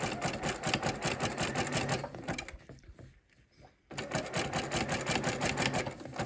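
Sewing machine stitching fabric-wrapped rope trim, a fast steady mechanical chatter of close stitches that pauses briefly midway, leaving near-quiet rustle, then resumes at the same loud, even rate.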